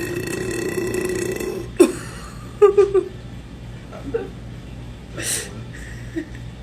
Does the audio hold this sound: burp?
yes